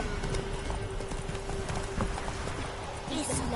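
Rapid clip-clop of horse hooves on hard ground in The Witcher 3 video game, steady and fairly close, with a brief whinny near the end and talk in the background.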